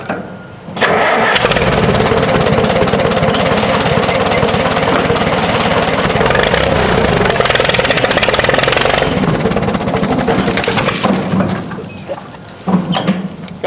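A vintage 1945 Oliver 80 tractor engine cranks and catches, then runs loud and close with a rough, rumbling idle for about eleven seconds before it dies away. A few knocks and clunks follow.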